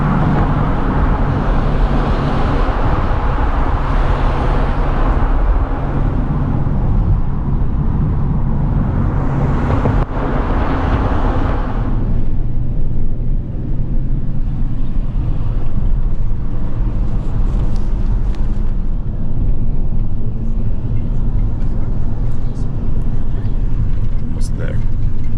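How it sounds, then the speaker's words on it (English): Road traffic around a bus station in Kurdistan: a loud, continuous engine rumble with passing vehicle swells and a whooshing pass early on, fading to a lower idle later, with no clear voices. "This is my bus right here."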